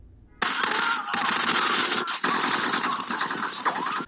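Soldiers' gunfire in a Walking Dead episode comes as dense, loud bursts of rapid shots. They start abruptly, break off for a moment near the middle, then keep rattling on without anyone speaking.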